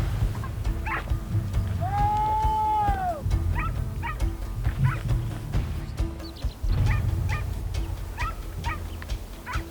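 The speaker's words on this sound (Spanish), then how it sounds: "Los perros han movido algunos jabalíes y están excitados siguiendo su rastro." Excited hunting dogs tracking wild boar near Tudela bark, yip and whimper repeatedly in an irregular stream against steady outdoor background noise.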